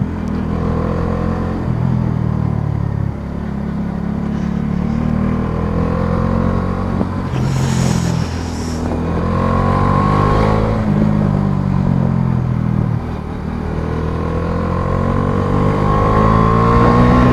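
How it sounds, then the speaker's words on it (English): A motorcycle engine drones steadily at close range on a curvy mountain road in Bhutan, its pitch rising and falling as it shifts gears and changes speed. "I love curves when I'm riding a motorcycle"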